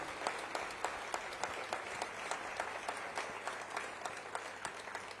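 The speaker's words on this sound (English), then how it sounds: "I want to begin by asking all of you to do a round of applause for our members of parliament" Audience applause for members of parliament at an all-party delegation event, with dense, even clapping and a few sharper individual claps standing out, sustained throughout at moderate distance.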